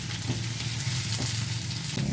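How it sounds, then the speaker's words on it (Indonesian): Sliced shallots dropped into a spoonful of hot olive oil, bursting into a dense, close sizzle that crackles steadily with small surges and pops over a couple of seconds. "Setelah panas kemudian kita masukkan brambang timur yang sudah diiris-iris tadi nih"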